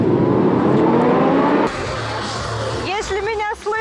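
Motorcycle engines rev loudly and nearby at an outdoor bike show, a strong roar that cuts off sharply partway through, followed by quieter engine rumble, crowd noise and talking voices.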